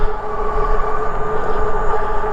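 A dual-motor vehicle accelerates at full throttle, a loud, steady motor whine with a strong tonal hum and rumbling wind noise.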